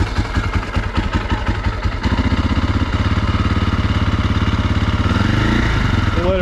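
A 2004 KTM 250 EXC-F four-stroke motorcycle engine idles as it warms up with the choke just turned off, a loud, close, steady rapid thumping with mechanical clatter running throughout.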